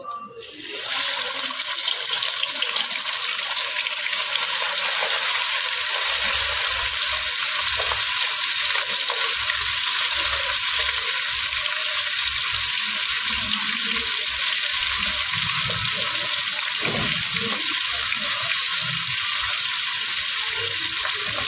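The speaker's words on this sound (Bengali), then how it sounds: "তেলটা গরম হয়ে গেছে এবারে মাছের টুকরোগুলো দিয়ে আমি ভেজে নেব" Pieces of rohu fish head fry in plenty of hot oil for muri ghonto, a loud, dense, unbroken crackling sizzle that runs steadily throughout with faint low bumps underneath and no speech.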